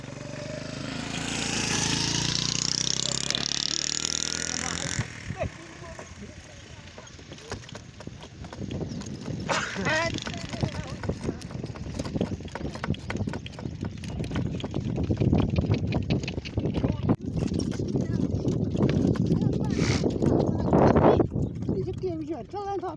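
A mare's hooves clip-clop at a run on a village road, a steady rhythmic clatter over broadband wind and movement noise, with people talking throughout.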